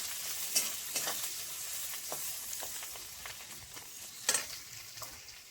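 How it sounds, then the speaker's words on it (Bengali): Chopped onions and slit green chillies fry in a pan, a steady close sizzle with a few sharp stirring scrapes at intervals; no one speaks. "পেঁয়াজটা হালকা করে একটু ভেজে নেব।"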